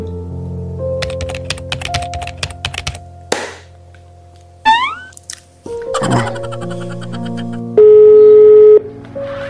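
A telephone is dialed with a rapid run of loud keypad clicks and beeps, broken by a few cartoonish sound effects, ending with a sustained steady tone.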